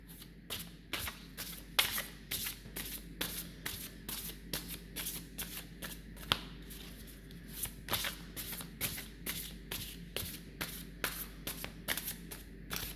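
Tarot cards being shuffled by hand, a steady run of soft riffling flicks and slaps up close, quiet and continuous with no speech.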